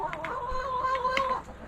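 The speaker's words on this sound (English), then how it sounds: "I love chicken noises." Chickens cluck softly in their coop, giving a short run of tonal clucks and a brief squawk at moderate distance with faint background noise.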